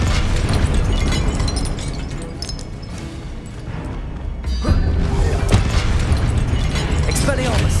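A Confringo blasting-spell explosion in Hogwarts Legacy erupts loudly with a broad booming burst midway, over busy combat noise and steady game background.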